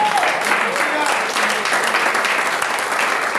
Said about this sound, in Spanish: aplauda al rey en esta mañana